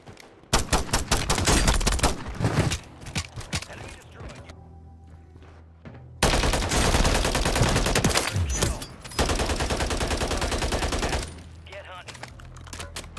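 Static-HV automatic gunfire in Warzone (Modern Warfare III) comes in long, loud, dense bursts separated by short pauses, with mechanical clicks in the gaps and a player's voice talking at times.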